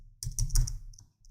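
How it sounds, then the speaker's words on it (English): A quick burst of keystrokes on a computer keyboard while entering a web address into a browser, close and crisp, several rapid taps then a couple of lighter ones, with no talking. "So we do that by typing"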